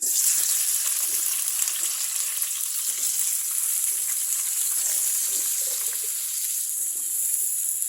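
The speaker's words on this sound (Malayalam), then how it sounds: "അപ്പോൾ എണ്ണ നന്നായിട്ട് ചൂടായി വന്നിട്ടുണ്ട് നമുക്കിതിലേക്ക് കഷ്ണങ്ങൾ കുറച്ച് ഇട്ട് കൊടുക്കാം" Vegetable pieces for sambar frying in hot oil in a pan, a continuous loud hissing sizzle that holds steady from start to finish, with no talking.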